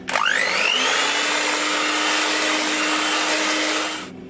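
An electric mixer whips chocolate mud cake batter as almond meal is worked in, a loud steady motorised whir that spins up sharply at the start, holds for about four seconds, then cuts off.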